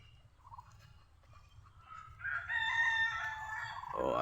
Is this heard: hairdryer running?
no